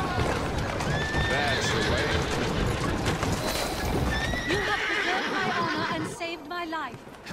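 Video game horse hooves clop rhythmically at a gallop with repeated neighs and whinnies, loud and close, easing off near the end as a voice speaks; from Assassin's Creed Syndicate.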